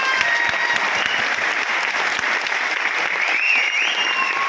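Audience applause at a talk or gathering, a dense, steady clapping from many hands that holds at full strength throughout, loud and close.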